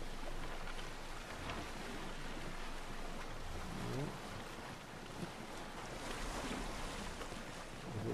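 A sailing boat on open sea in the video game Assassin's Creed Odyssey, with steady rushing water and wind noise that swells and eases for several seconds and no speech.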